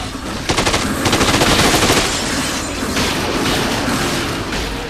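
Rapid electric gun fire in the zombie video game Dead Rising, a loud, dense burst of crackling shots rattling continuously for several seconds with a booming low end and brief lulls between volleys.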